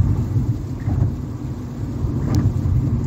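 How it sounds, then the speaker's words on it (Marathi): Heavy monsoon rain drums on a car driving along the Samruddhi Mahamarg expressway near the Dhule and Sambhajinagar exit, a dense continuous low roar with road rumble and no talking. "चांगला पाऊस येऊन राहिलेला आहे"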